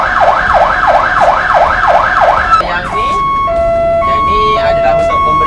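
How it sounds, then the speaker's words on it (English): A loud wailing siren sweeps up and down rapidly in a steady cycle, then switches to sharp alternating tones and short blasts, close by. "different sirens, okay? They mean different things."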